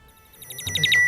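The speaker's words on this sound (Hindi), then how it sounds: "कमली का फोन" An electronic phone ringtone chirps in quick repeated bursts, growing louder toward the end, close and clear with no talking.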